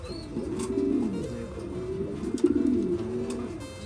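Belgian racer pigeons coo at a pigeon farm in West Bengal, producing a continuous low, throaty warbling that swells in two long phrases, close and fairly loud, with no voices over it.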